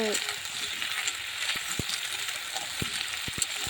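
Cauliflower and potato being stirred in a frying pan, a steady sizzle with scattered light scraping taps from the utensil, faint and close.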